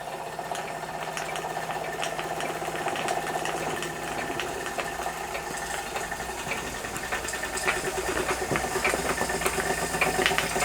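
A Wilesco D455 model steam engine with slip eccentric runs steadily, a continuous fast mechanical chuffing and clicking over hiss, close and even throughout.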